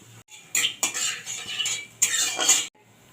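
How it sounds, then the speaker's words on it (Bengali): Nigella seeds dropped into hot oil in a wok crackle and hiss in two bright bursts, with a spoon scraping the metal between them. "তেলটা আমার গরম হয়ে গেছে। তেলের মধ্যে দিয়ে দিচ্ছি কালো জিরে"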